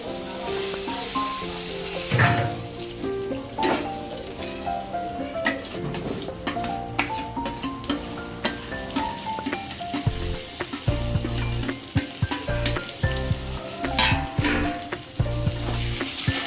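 Potatoes frying in a pan for a pangas fish and potato curry, a steady sizzle with scraping stir strokes, under background music with a thumping beat.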